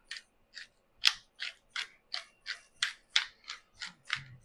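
Pepper grinder being twisted by hand, a rapid series of about a dozen crisp ratcheting scrapes at an even rhythm, close up with no talking.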